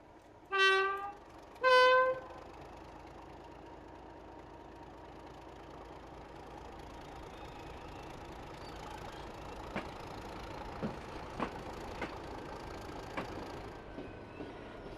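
Train in Train Simulator 2021 hauling a freight working from Heysham Power Station to Sellafield: two loud horn blasts at the start, then a steady rumbling run with scattered clanks and rail knocks, no talking.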